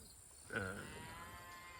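South Poll cows in a pen let out a single low moo partway through, fairly faint and alone against steady background noise.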